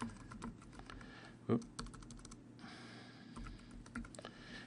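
A name being typed on a computer keyboard, quick, soft, close key clicks in short runs with brief pauses, over a quiet background hum.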